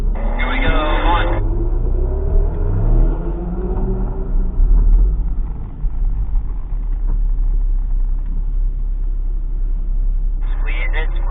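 During a slalom driving exercise, a car engine rumbles loudly and close by, its revs rising and falling through the turns. A voice talks over the steady engine noise.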